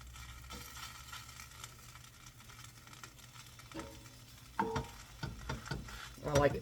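A bun toasting in butter in a hot pan for sloppy joes gives a steady low sizzle and crackle, with sharper spatters and scraping stirs growing louder toward the end.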